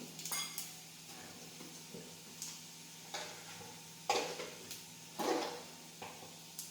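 Mustard seeds, asafoetida and turmeric hit hot oil for a Gujarati dahi tikhari, giving sparse, faint crackles and sharp pops spaced a second or so apart over a quiet kitchen background.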